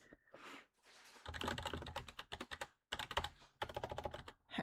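Close computer keyboard typing comes in quick clattering bursts of keystrokes separated by short pauses, with a faint breathy sound at the start and no talk.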